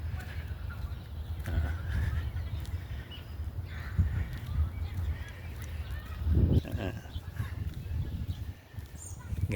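Birds call in a park in Canada, scattered honking and cawing cries at moderate distance over steady outdoor background noise, with a person speaking now and then.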